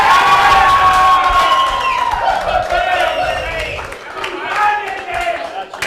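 Crowd at an 8-ball pool match cheering and whooping loudly, with shouts rising over a noisy room and voices talking throughout.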